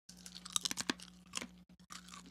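Crunchy orange chips chewed close to the mic, a run of sharp irregular crackling bites over a low steady hum, with short pauses between bursts.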